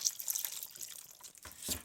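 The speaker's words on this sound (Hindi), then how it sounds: "तो इसमें अब मैं 1 कप भर के पानी का डाल रही हूँ।" Water poured into a pressure cooker holding beef makes a short, splashy trickle that swells near the end, close and alone without speech.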